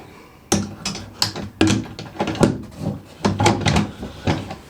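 A wooden drawer is slid and knocked into place in an upcycled router table, a run of sharp close clunks and scraping taps in quick irregular bursts.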